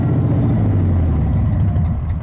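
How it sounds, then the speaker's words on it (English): A Ford Mustang engine runs with a loud, steady low rumble close by, a continuous idle-like drone throughout the short stretch, with no voices over it. "We were trying to get the Mustang started."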